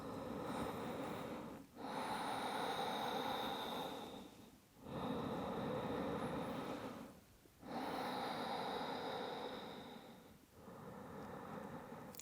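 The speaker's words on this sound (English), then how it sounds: "take 3 full breaths here" Deep, slow breathing in yoga child's pose: three long, airy inhale-exhale cycles, close and soft, each separated by a brief quiet dip.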